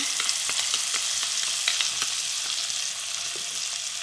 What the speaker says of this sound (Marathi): तडका केलेला आपण डाळीवर टाकून घेऊ